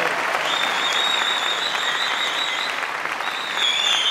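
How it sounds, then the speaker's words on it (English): Spectators at the 1993 NABBA Universe bodybuilding contest, during the Miss Figure overall round, give a sustained round of applause. Thick, even clapping carries from start to finish, with faint high tones ringing above it. "Ladies and gentlemen, a round of applause,"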